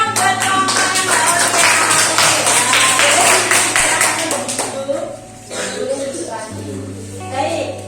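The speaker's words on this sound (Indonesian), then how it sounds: "Tepuk tangan dong buat kelompok yang Mbak" A classroom of students applauds a group, a dense burst of clapping that fades after about five seconds, with people talking during and after it.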